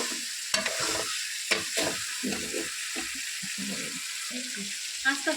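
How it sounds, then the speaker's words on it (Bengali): Biryani masala is stirred and fried in a pan, with a soft sizzle under repeated scraping strokes of a spoon against the pan, one after another at close range. "তো গাইস এইভাবে ভালোভাবে কষতে হবে একটু"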